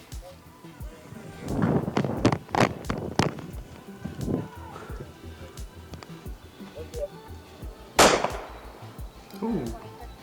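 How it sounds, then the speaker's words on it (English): Gunshots during a police encounter, a quick cluster of sharp loud cracks followed by a single louder shot a few seconds later, outdoors amid shouting voices and scuffling. "shots fired, subject down"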